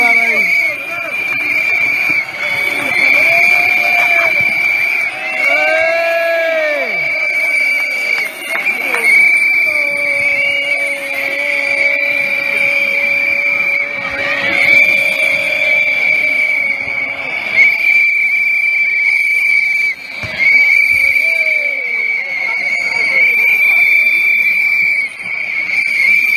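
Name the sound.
many whistles being blown in a valley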